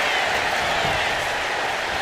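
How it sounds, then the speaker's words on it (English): A capacity arena crowd in WWE 2K25 cheers and applauds through a pin attempt by the champion, a loud, dense, unbroken roar of noise. "you hear this capacity crowd following pin attempt by the champion"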